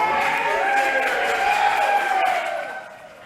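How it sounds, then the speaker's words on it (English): Seniors at a senior center applaud as a visitor walks in, a steady wash of many hands clapping with some cheering that swells and then tapers off toward the end. "I think Dante loves applause when he walks into a room."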